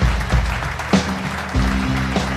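Warm applause at an evening corporate gala welcoming the company founder, a broad wash of clapping mixed under swelling musical chords, fairly loud and continuous.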